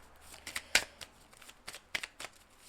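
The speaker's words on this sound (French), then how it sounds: "On va tirer une carte sur la méchanceté." Tarot cards riffled and drawn from a deck, giving a run of crisp papery snaps and flicks close by, with one sharper slap near the start and quieter rustles between, without talk.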